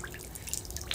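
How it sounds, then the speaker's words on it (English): Rain dripping around an outdoor hot tub: light scattered drips and patters over a soft steady wash of water, quiet and close, a brief moment without voices. "It's a beautiful rainy day."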